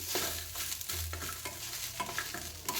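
Cinnamon stick and cloves fry in oil in a pan for chicken gravy, a steady close sizzle with intermittent stirring scrapes and knocks, no voices.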